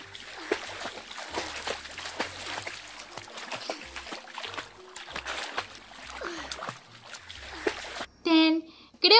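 Shower water splashing and trickling over toy baby dolls at bath time, irregular splashes and drips close by, ending with a brief burst of bright sound and a short spoken phrase.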